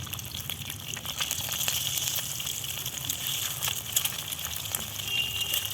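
Eggs fry in hot oil, producing a steady, moderately loud crackling sizzle with faint scattered pops, continuous throughout and with no voices.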